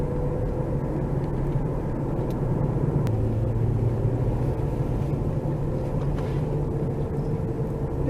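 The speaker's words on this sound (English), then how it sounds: "It's up a ways. I'm driving slow." A car driving slowly along a trail, a steady low engine rumble and road noise heard from inside the vehicle, continuous and even throughout with no talking.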